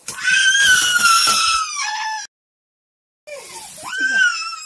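A small child cries and screams loudly in a home kitchen, with two long wailing bursts separated by about a second of silence.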